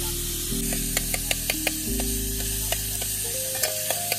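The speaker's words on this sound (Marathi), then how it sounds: "तडका मारलाय आदित्यने" Tadka tempering sizzles in hot oil over an outdoor jungle fire while Maggi noodles are cooked, a steady close frying hiss broken by sharp spits and pops, with a low engine-like hum underneath.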